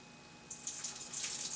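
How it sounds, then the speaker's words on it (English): Water trickles and hisses out of a water heater's pressure relief valve, a faint, steady splashy flow that begins partway through after a quiet start and keeps going. "Can hear some water coming out of it."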